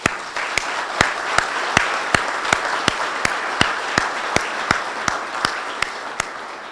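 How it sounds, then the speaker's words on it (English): An audience applauding a cardiac arrest survivor at a fire department ceremony, with loud, regular individual claps standing out over the wash of crowd clapping. "another big round of applause for our survivor"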